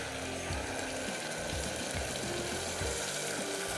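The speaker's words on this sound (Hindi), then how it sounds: "हल्का सा फ्राई करना है बस, थोड़ा सा ज़रा लहसुन की जो मज़ेदार खुशबू आनी शुरू हो जाए" Garlic frying lightly in a pan, a steady soft sizzle with faint bubbling and rhythmic scraping or stirring, continuous and fairly close with no voices.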